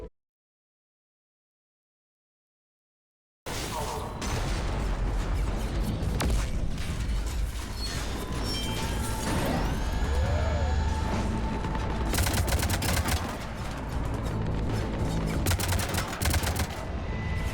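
Cannon fire and battle clamor from the video game Mass Effect 3, a dense loud barrage of rapid shots, booms and mechanical whirs after a few seconds of silence.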